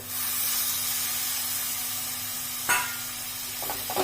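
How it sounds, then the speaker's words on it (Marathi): Two finely chopped tomatoes drop into hot chicken gravy in a pan. A loud, steady hiss and sizzle follows, with a sudden burst as they land and a few light stirring clicks, and no voices. "आता यामध्ये आपण 2 बारीक चिरलेले टोमॅटो घालूयात।"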